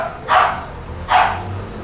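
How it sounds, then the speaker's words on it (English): A corgi gives two short whimpering yelps about a second apart, close by and fairly loud, with quiet background between them. "Corgi already complaining and whimpering that we're leaving him"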